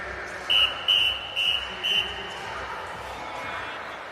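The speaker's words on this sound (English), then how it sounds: "And that is the get ready whistle" Four short, shrill blasts of a get-ready whistle sound at a swimming championship pool, evenly spaced about half a second apart, ringing over a low murmur of indoor crowd noise.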